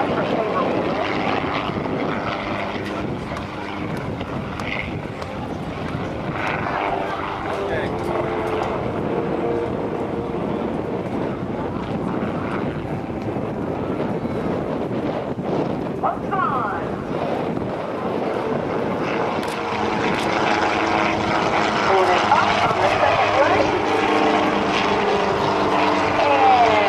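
A helicopter flies aerobatic maneuvers at the 2012 NAS Oceana airshow. Its engine and rotor drone on steadily at a distance, with gusts of wind hitting the microphone and a voice talking over the whole stretch.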